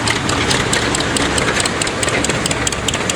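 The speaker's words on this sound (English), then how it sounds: "1224 is a little 2-cylinder tractor." An antique two-cylinder tractor engine runs steadily at a summer farm show in Madison, South Dakota, a close, constant chugging rumble with rapid regular pulses and no speech.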